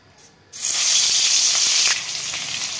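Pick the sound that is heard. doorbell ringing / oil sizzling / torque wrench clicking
oil sizzling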